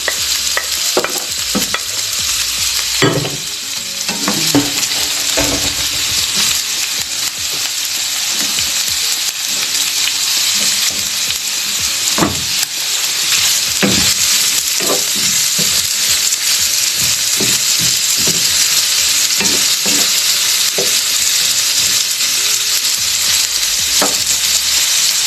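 Garlic for pancit sizzles loudly in hot oil in a pan, with repeated scraping stirs breaking through a steady bright frying hiss for the whole stretch.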